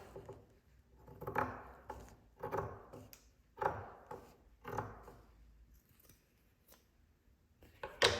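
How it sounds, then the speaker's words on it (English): Scissors snip away leftover pieces of paper while crafting a pom-pom gnome hat, with several crisp cuts spaced a second or so apart, close and fairly quiet. "And then cut the leftover pieces out."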